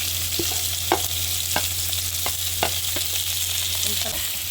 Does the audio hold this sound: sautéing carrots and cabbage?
yes